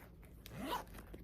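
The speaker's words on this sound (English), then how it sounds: "Zips open." The zipper on a silver and black purse is pulled open in one quick, close rasping zip, fairly quiet, with no talking.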